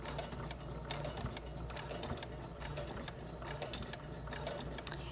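A sewing machine stitches through several layers of fabric at a long stitch length with slightly loose tension, a steady close mechanical whir and rapid needle clatter running continuously with no voices.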